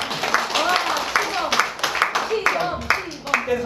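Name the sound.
audience clapping for a dance teacher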